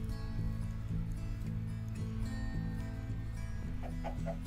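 Chickens clucking in Minecraft, several blocky game hens giving repeated short clucks over a steady looping game background, close and moderately loud, no talk.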